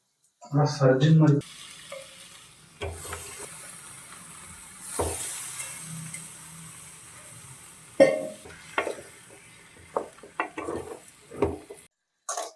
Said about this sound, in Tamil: நல்லா வாஷ் பண்ணி வச்சிருக்கிற சிக்கன் அடுத்து நாங்கள் போட போகிறோம்.